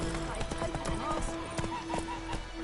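A horse gallops in The Witcher 3 with steady, rhythmic hoof clip-clops over a game soundscape, and a voice speaks over it.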